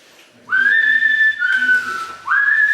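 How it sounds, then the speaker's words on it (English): A man whistles a simple tune while working in a house during a move, clear sustained notes in a few long phrases, close and alone without talk. "he whistles while he works, this one"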